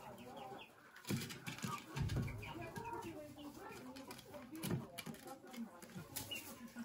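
Chickens clucking and pecking around their feed, close busy scratching and taps mixed with soft clucks, while people talk over them.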